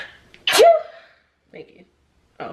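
A single sharp, close sneeze bursts out loudly, followed by brief quiet speech from people nearby.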